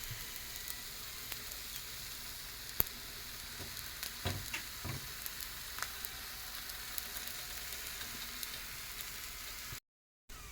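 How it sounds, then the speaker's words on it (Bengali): Coconut paste filling for patishapta goes onto a hot griddle, giving a soft, continuous sizzle with faint crackles and a few louder clicks and scrapes throughout. "যেহেতু আমার চাটুটা গরম হয়ে গেছে, তাই দেওয়ার পরপরই দিয়ে দিচ্ছি করে রাখা নারকোলের পেস্টটা"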